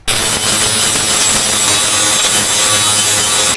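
Angle grinder working the sheet-metal body of a classic Volkswagen Beetle under restoration, a loud continuous harsh grinding rasp close up that lasts the whole clip with no voices.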